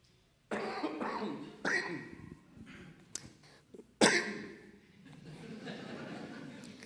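A person coughs several times, with sharp bursts spaced a second or so apart and one louder hacking cough midway, close and fairly quiet, with a little throat clearing.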